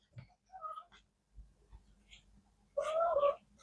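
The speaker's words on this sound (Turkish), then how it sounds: "Benim kedi işler yine miyavlıyor." A pet cat meows indoors, first with a few soft, short calls, then with one louder, drawn-out meow near the end, close to the listener, with quiet stretches between the calls.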